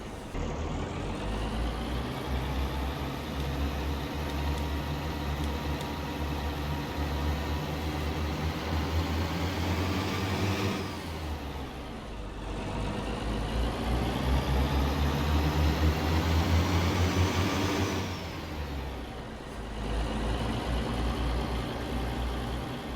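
Cat 3406-C 565-horsepower diesel truck engine in American Truck Simulator, a steady loud harmonic drone that climbs and falls through gear changes, with two brief dips around shifts, no talk.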